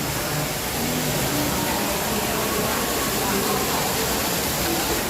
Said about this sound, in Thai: น้ำตกสวยงามนะคะ